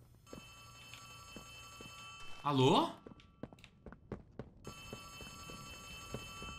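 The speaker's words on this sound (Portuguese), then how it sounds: "Tá tocando meu telefone! Eu tenho telefone!" In the video game Poppy Playtime Chapter 3, a telephone rings faintly in a short repeated trill, broken by a loud burst and scattered thumps and footsteps as a person speaks briefly over it.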